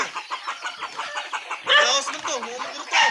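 A chicken clucks in quick, agitated bursts while being chased, then lets out louder squawks near the end, up close with people's voices and commotion around it.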